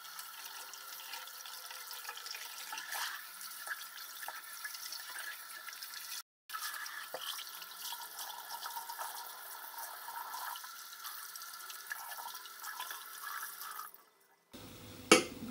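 Tap water runs steadily while shaving tools, including a Merkur 45C Bakelite safety razor and brush, are rinsed under it, a continuous close splashing flow with a brief pause and a clunk near the end.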